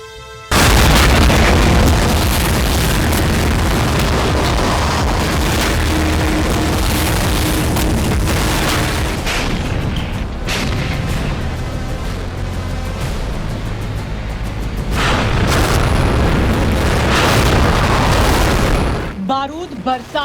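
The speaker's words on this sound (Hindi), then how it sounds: "बारूद बरसाती तोपें" Artillery cannons fire in a rolling barrage of deep booms and explosions, loud and dense, running on for about twenty seconds under a dramatic news soundtrack.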